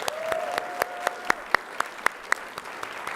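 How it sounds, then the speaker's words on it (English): Sparse, individual claps at a Board of Education meeting ring out at an uneven pace, with a sustained tone fading underneath in the first second or so. "Can we give them one more round of applause?"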